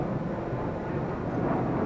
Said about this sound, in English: I love the sound of planes